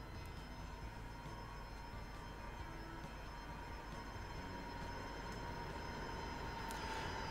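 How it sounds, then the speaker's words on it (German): An S-Bahn commuter train in the video game Transport Fever 2 rolls into a small station: a steady low rumble, continuous and fairly loud, with a faint high tonal whine above it and no talking. "Ich höre auch schon die S-Bahn."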